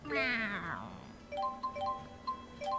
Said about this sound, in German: Kätzchen.